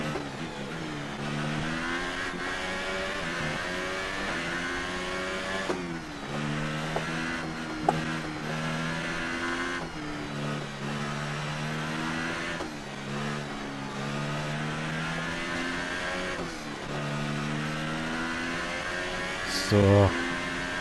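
Race car engine in F1 2018 during qualifying at Japan, a steady high whine rising and falling in pitch through gear changes, continuous and loud, with someone talking over it throughout.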